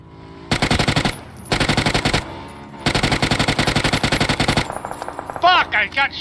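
Automatic gunfire in the battle royale game PUBG rattles in loud, rapid bursts separated by short pauses, with brief voices at the end.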